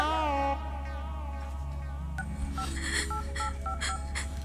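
A series of mobile phone dialing tones, short beeps in quick succession, after a brief hum and buzz.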